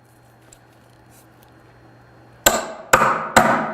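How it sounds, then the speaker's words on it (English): Hammer driving a punch to knock the cone out of a mainline cable entry, three sharp metallic strikes close by after a quiet start, each ringing briefly. "Use a hammer and a punch to punch the cone out of the cable entry."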